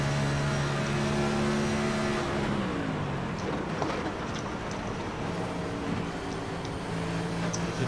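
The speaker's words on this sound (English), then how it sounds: "You can hear just how much they're off the throttle in the corners." A sim racing game race car engine heard onboard drops in pitch as the driver lifts off the throttle for a corner, then climbs again steadily, with a constant loud droning tone and brief ticks in between.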